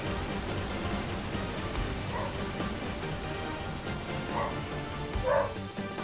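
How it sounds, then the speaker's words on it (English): A dog barks a few times from a distance, short yips spaced across the stretch over a constant background hum. "Apologies for the dog barking."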